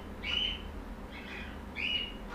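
Parrots outdoors give two sharp, high squawks about a second and a half apart, moderately close over quiet background rumble.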